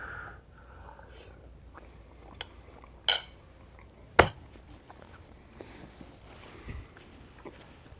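Cutlery clinks sharply against a plate while a bite of braised pork chop with smothered cabbage is taken, with a few scattered softer taps and scrapes in a quiet kitchen.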